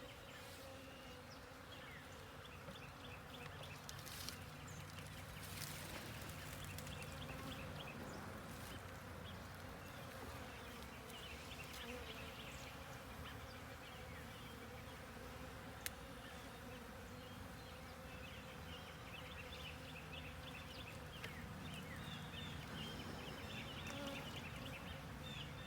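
A continuous low hum of many honey bees buzzing at the hive, steady and moderately faint throughout, with occasional brief knocks.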